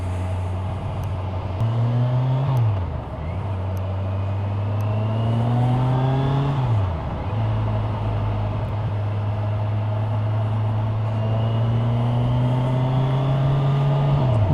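Motorbike ride through Hackney traffic toward Victoria Park, a steady engine drone that rises and drops with repeated gear changes, close and continuous, with background traffic noise and no talking.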